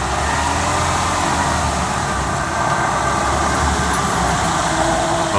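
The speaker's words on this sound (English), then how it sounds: "It kind of sort of sounds like a differential noise." Steady droning howl from a worn driveshaft bearing on a Mercedes ML320 while driving, a continuous low rumble with a faint whining tone running throughout, heard from inside the vehicle with no talking.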